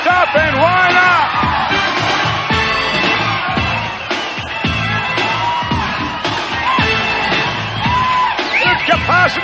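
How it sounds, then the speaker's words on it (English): A packed arena crowd at a WBF bodybuilding championship yells, whoops and cheers loudly and continuously, with whistles and shouted calls rising and falling throughout. "This capacity crowd"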